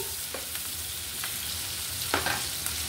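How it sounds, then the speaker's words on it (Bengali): Dried shrimp, onion and garlic fry in a pan with a steady crackling sizzle, broken by a few scraping stirs near the start and a louder stir toward the end; no voices. "চিংড়ি, পেঁয়াজ আর রসুনটা কিছুটা ভাজা ভাজা হয়েছে"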